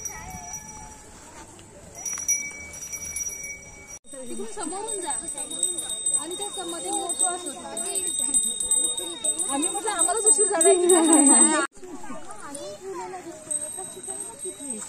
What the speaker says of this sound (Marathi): ते असं जाताना घंटानाद करून जातात. घंटा वाजवत जायची.